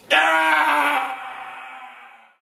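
A single long, tonal scream used as a sound bridge between film scenes. It starts abruptly, holds loud and close for about a second, then fades away over the next second.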